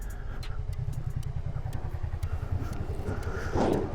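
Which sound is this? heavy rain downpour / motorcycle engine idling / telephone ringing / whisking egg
motorcycle engine idling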